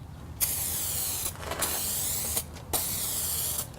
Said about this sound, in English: now we're going to start spraying